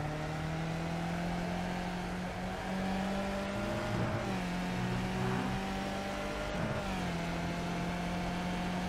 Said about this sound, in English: Listen to the revs when he's changing down.